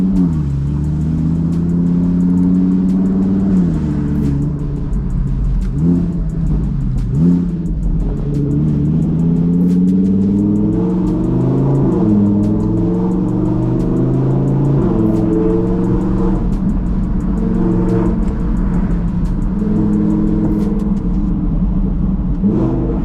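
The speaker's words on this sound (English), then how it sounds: "This is one of the world's loudest Audi R8s." Heavy, continuous exhaust roar from a 1000hp Audi R8 with a loud exhaust, heard up close from inside the car as the engine revs and pulls through rising and falling pitch while driving, with no talking.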